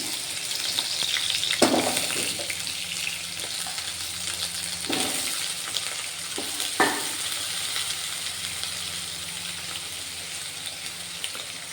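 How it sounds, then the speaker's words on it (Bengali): Fritters of fish roe fry in hot oil, a steady moderate sizzle with a few sharp clinks and splashes scattered through it. "এতগুলো ডিম দিয়ে বড়া বানিয়েছি, তেল দিয়ে দিচ্ছি।"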